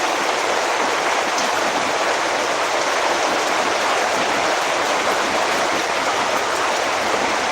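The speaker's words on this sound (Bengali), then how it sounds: "উঠে দেখি প্রচুর বৃষ্টি" Heavy rain pours steadily at a poultry farm, a dense and unbroken roar of water that stays loud and even throughout, with no voices.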